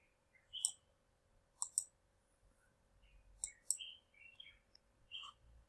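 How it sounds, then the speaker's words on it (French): Computer mouse clicks, sharp and close, arriving in spaced pairs and singles against a quiet room with faint electronic hum and a few small incidental sounds. "maintenant je clique."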